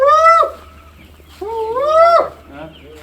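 Chickens cluck and call loudly in two close bursts inside a poultry shed where chicks are kept, with a quiet pause between the calls.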